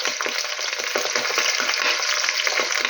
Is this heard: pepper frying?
yes